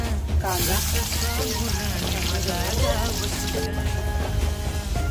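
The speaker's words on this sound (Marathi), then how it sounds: "तेल छान तापलेलं आहे, त्यामध्ये आपण जिरं आणि दालचिनी टाकलेलं आहे" Cumin seeds and cinnamon sizzling in hot oil for a Kolhapuri-style Maharashtrian dish, a steady hissing crackle that runs throughout, partly masked by voices and other sound on top.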